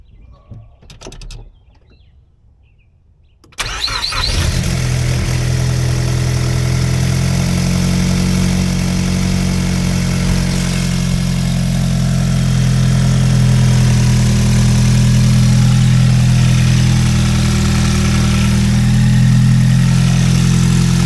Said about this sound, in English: we're gonna go for the first start on the new turbo